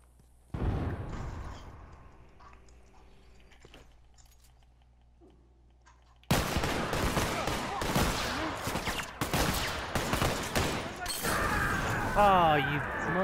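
Dense bursts of gunfire from The Last of Us multiplayer crackle loudly through the second half, following quieter ambient game sound and speech.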